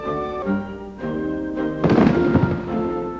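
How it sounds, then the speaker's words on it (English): An artillery bombardment sound effect recalling the shelling of Fort Sumter, a loud booming blast rolling in after a second of sustained tones, with a rumbling crackle that fades. "Union soldiers inside Sumter endured a fierce bombardment."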